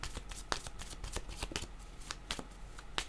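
Close, quiet riffling and snapping of tarot cards being shuffled and drawn, a run of crisp irregular flicks with no talk over them.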